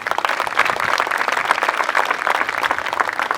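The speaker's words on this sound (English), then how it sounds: "I want you guys to appreciate your coaches and managers by just giving them a round of applause" An audience applauds coaches and managers at the opening ceremony of the 2016 Engen Knockout Challenge school sports tournament at Grey College, with dense, steady clapping throughout and no voices.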